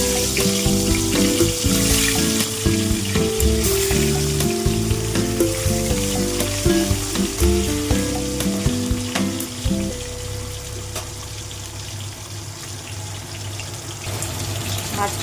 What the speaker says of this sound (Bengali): আগে মাছগুলো একটু ভেজে নেব।